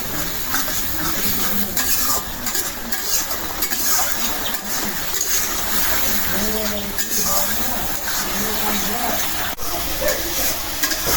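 Spices frying in a pan for a Padma river fish curry, stirred steadily with a continuous close sizzle, scraping strokes and faint voices underneath throughout.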